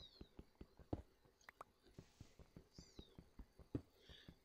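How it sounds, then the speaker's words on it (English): Newborn kittens wander a livestock pasture in the game TerraFirmaCraft, giving faint, high, repeated mews over a quiet run of soft, regular tapping sounds. "And mewing their full heads off."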